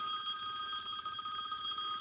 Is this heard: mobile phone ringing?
yes